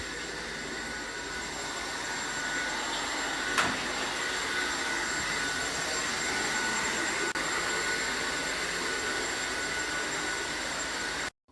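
A vacuum cleaner drones steadily and continuously at moderate volume, with a brief click partway through and a sudden cutoff at the end.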